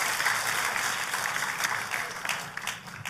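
Church congregation applauding loudly for God during a sermon, a dense burst of clapping lasting a few seconds with no talk over it.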